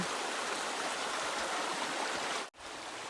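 Flowing water of a stream in a natural river setting, a steady rushing wash heard alone at night, briefly cut off near the end before resuming slightly quieter.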